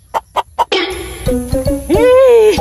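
Chickens outdoors, kept near a rural home: three short, sharp clucks come first, then louder drawn-out, rising and falling calls that fill the rest of the moment, fairly close, with no talking.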